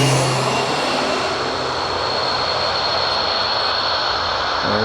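Propeller aircraft at Birmingham Airport revving its engine on the ground, a loud, steady broadband roar with a droning hum that holds continuously and close throughout, with no voices.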